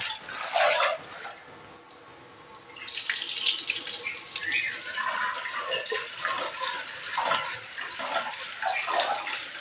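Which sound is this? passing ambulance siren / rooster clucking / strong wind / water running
water running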